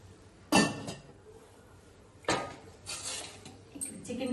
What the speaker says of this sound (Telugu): మూత పెడుతున్నాను.